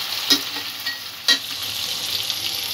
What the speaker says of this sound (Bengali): মটরশুঁটিটা 2-1 মিনিট একটু ভাজা করে নেব।